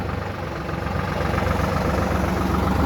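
A tractor engine idles steadily nearby, a continuous low rumble and mechanical drone holding an even level throughout with no voices over it.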